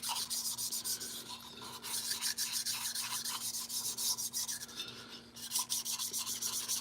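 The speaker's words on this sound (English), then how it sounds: "I just try to get the most out of my little abrasive cloth here" Abrasive cloth scrubbing a 661 chainsaw cylinder sleeve in steady, close back-and-forth rasping strokes, with a brief pause near the end before the rubbing resumes; no one speaks.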